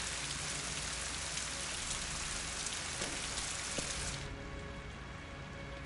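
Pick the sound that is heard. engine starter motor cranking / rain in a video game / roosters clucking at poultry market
rain in a video game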